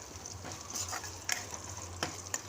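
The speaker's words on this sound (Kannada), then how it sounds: "ಸ್ವಲ್ಪ ಚೆನ್ನಾಗಿ ಫ್ರೈ ಆಗಿದೆ ನೋಡಿ ಚೆನ್ನಾಗಿ ಫ್ರೈ ಮಾಡ್ಕೋಬೇಕು ಅದನ್ನ" Sambar seasoning frying for a leafy-greens soppu sambar gives off a steady close sizzle, and a spoon scrapes the pan in a few short strokes.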